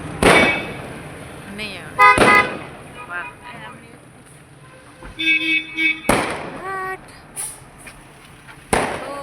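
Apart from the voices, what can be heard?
firecrackers bursting during Makar Sankranti celebration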